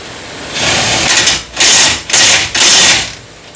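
A DeWalt 1200 foot-pound impact wrench tightening during a 2013 Nissan Altima 2.5 S brake and rotor job, firing in three loud hammering bursts separated by short pauses.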